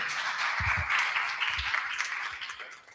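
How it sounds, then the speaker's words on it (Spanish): A small group claps for a few seconds, a dense patter of applause with some low thumps, tapering off at the end. "Un aplauso al equipo, se lo merece."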